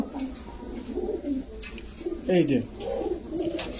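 Pigeons coo in low, throaty, repeated bursts from a loft where a breeding pair tends its young, one louder rolling coo standing out midway, with a faint background hum throughout.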